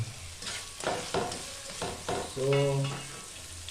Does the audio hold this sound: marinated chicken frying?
yes